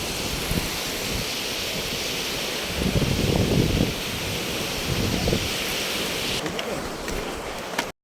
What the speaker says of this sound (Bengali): কত ঢেউ আসছে বাপরে বাপ